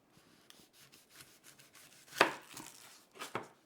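A knife works through a red onion on a board, quiet scraping and rubbing followed by two distinct sharp chops as it is cut in half, close and fairly soft, no talking.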